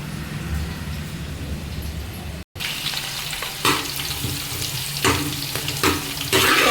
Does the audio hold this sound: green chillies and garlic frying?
yes